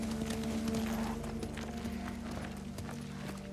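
Horses gallop in the samurai open-world video game Ghost of Tsushima Director's Cut, with steady rapid hoofbeats clip-clopping over a constant low droning background, moderately loud and with no talk.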